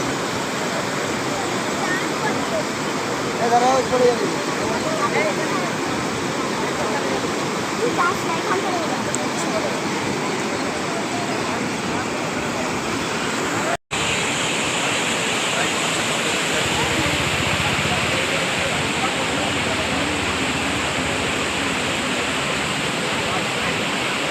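Water rushing along a river where people are fishing in the afternoon, a loud continuous roar of flowing water that fills the whole stretch, with a brief break partway through.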